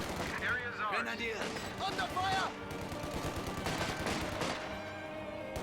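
Light gunfire crackles in short bursts during a video game battle, with someone talking over the shooting throughout.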